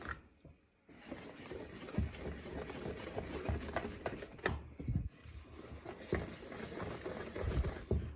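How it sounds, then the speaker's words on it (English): Flour batter for Greek tiganites being whisked in a bowl: fast rhythmic wire clicking and sloshing against the bowl, close and steady with brief pauses, no voices. "Stir it so that no flour is left anymore on the sides."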